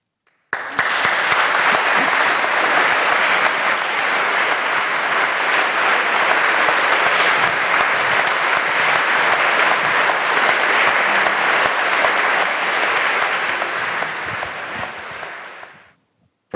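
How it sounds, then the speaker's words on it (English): Sustained audience applause fills a lecture hall after a Boyle Lecture on science and religion, a dense steady clapping from a large crowd lasting about fifteen seconds before fading out. "I think the applause has been very eloquent"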